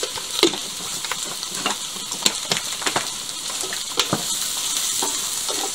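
Potatoes and chicken frying in a pan with paprika as they are stirred, a steady sizzle broken by irregular scraping and clinking of the utensil, close and alone without talk.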